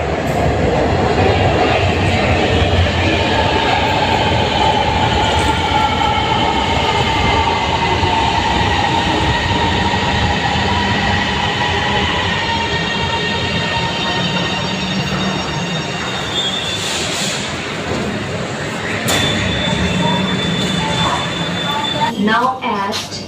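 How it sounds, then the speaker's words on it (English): Orange Line metro train in Lahore pulling into a station, a loud continuous rumble of wheels and motors with rising tonal whines and brief squeals near the end, a recorded platform announcement faintly under it. "The train is arriving."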